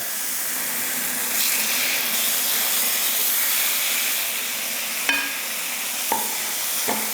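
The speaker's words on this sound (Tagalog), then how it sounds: "Itutuloy ko lang sa pagprito pa ng mga remaining na pieces." Pork chops frying in a pan, a steady hissing sizzle with a few sharp pops and clicks near the end, no voices.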